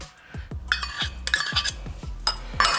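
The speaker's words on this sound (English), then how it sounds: "now we're just gonna mix it all in" A utensil stirs sauce ingredients together in a bowl for chicken wing sauce, giving repeated close clinks and scrapes at an irregular pace, about seven distinct knocks.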